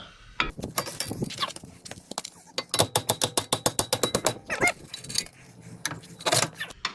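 A ratchet wrench working on the upper strut bolts of a 2012 Scion tC, close and loud, with bursts of rapid clicking, a steady run of evenly spaced clicks in the middle, then more short bursts.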